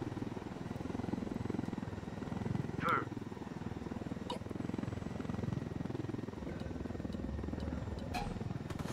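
Helicopter in the video game Ghost Recon Wildlands: a faint, steady low rotor drone persisting throughout, with a few brief electronic blips over it.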